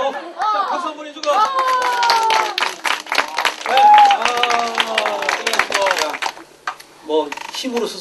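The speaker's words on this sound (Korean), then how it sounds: "자, 박수 한번 해주고" Workshop participants clap together in a burst of scattered applause, heard under steady speech from a presenter throughout.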